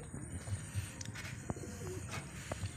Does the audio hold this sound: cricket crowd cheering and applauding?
no